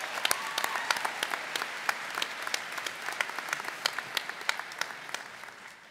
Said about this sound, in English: So one more round of applause for McClure.